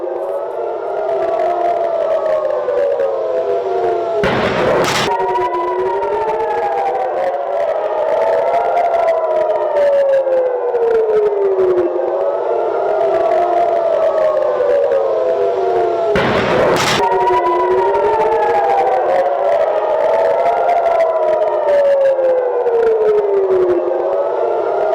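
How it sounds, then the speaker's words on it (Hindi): Air raid alert sirens wail across Haifa during a rocket attack, slow rising and falling tones overlapping from several sirens, loud and continuous, broken twice by sharp booming bursts. "गूंजे अलर्ट सायरन।"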